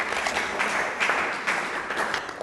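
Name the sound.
audience applauding a pageant contestant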